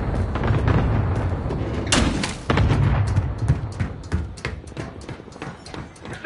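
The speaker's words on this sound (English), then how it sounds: "Receiving hostile fire." Hostile gunfire in a video game rattles out in loud, rapid bursts of sharp cracks and thuds, close and dense at first, then thinning into scattered shots toward the end, with no voices heard.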